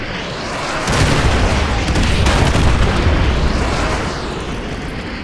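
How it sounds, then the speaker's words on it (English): Artillery strike explosions in Call of Duty: Modern Warfare 2 roar out as a dense, sustained rumble of overlapping booms that swell after the first second and hold loud before easing slightly toward the end. "Fire mission received. Artillery inbound."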